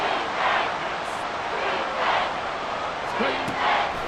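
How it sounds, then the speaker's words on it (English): Roar of a stadium crowd in Madden NFL 24, a broad steady wash of cheering swelling and easing in waves during a third-and-long Texans versus Buccaneers play, with faint announcer chatter. "This crowd turning up the decibel level"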